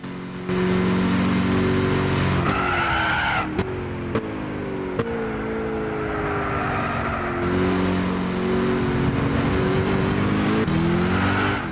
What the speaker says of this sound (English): Oh man, this is a big, big, big car. Not used to driving this much weight.